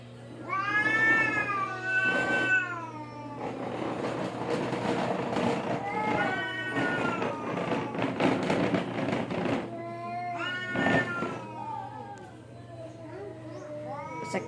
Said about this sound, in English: There's a cat there, a cat here, and a cat there.